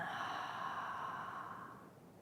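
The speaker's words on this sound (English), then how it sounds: "As you exhale out through the mouth, drop the belly." A slow, breathy exhale through the mouth during yoga breathing practice, a close, steady airy rush that gradually fades over about two seconds, heard alone.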